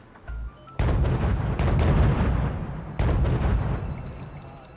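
Tank guns firing at distance in the Cold War strategy game Wargame: European Escalation, heavy booming shots with long rumbling tails, a dense volley followed by a second blast a few seconds later, no talk.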